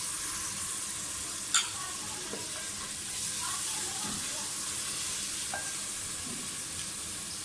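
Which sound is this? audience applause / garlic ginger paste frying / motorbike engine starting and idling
garlic ginger paste frying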